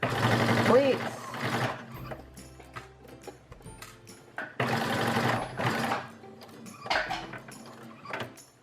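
A sewing machine runs in bursts as it stitches over the pleats of a homemade fabric face mask, its motor whirring in close, loud runs separated by short pauses.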